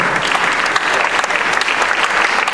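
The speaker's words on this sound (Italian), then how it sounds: "un applauso" Short burst of dense, loud audience applause at an Italian short-film festival evening as a filmmaker is called up, continuous clapping with no pauses.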